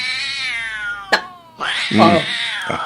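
A cat cries in a drawn-out, wavering meow that breaks off, then a second, louder wailing meow with a short yowl at its end, close and clear.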